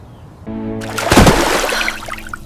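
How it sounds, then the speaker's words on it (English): A phone drops into water: a short low hum, then a sudden close splash followed by bubbling and gurgling as the water settles. "I dropped my phone in water!"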